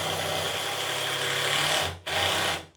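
A power drill drives 1.25-inch and longer screws into the wooden frame of a homemade table saw, a steady loud whir that cuts out briefly near the end and then resumes.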